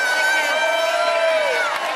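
Crowd at Bayside Bowl in Portland, Maine, during a professional women's bowling event, cheering and whooping loudly and continuously with excited voices throughout.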